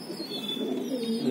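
A pigeon kept among a small group of birds for sale gives a soft, low cooing call that rises and wavers for about a second, close and fairly clear against a quiet background.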